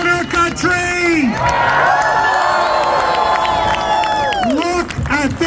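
A large audience at a live show cheers, whoops and shouts in a loud, sustained roar that swells through the middle and then tapers, with a voice speaking over it at the start and end.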